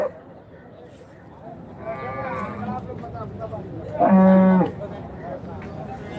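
Cattle moo twice at a cow market in Karimangalam, Dharmapuri district, a drawn-out low call followed by a louder, nearer bellow, over a busy background of murmuring crowd noise.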